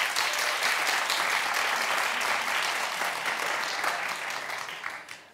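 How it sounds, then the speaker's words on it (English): A studio audience at a talk show claps loudly and continuously, a dense wash of hands that holds steady for several seconds and then tapers off near the end. "clap if he should respond"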